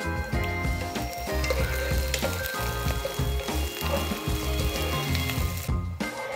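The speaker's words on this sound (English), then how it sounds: "now we are going to start with the frying of onions" Onion rings fry in oil in a hot pan, giving a steady, dense sizzle and crackle that carries on close and fairly loud throughout, with no speech.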